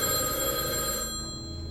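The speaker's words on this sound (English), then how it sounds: "Then the detectives get a phone call." A telephone bell rings in the 1995 crime thriller Seven, a steady, loud electronic trill that holds for over a second and then fades toward the end, with no talk.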